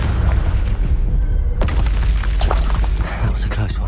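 A Confringo spell explosion in Hogwarts Legacy: a heavy low boom over a rumbling combat din, with sharp bursts cracking through and a voice speaking over it.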